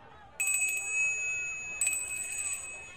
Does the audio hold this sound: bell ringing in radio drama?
yes